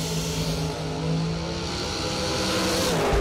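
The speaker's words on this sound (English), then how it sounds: "that's Madison McCormick driving Bailey's dragster" A dragster driven by Madison McCormick roars down the drag strip at a Christmas Bash race event, a loud continuous engine howl sustained throughout with no talking.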